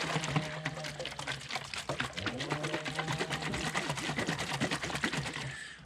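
A can of car paint for a 2009 Impala, left sitting a while, is shaken and twisted, giving a rapid, steady, close rattling slosh that runs without pause for several seconds and stops abruptly.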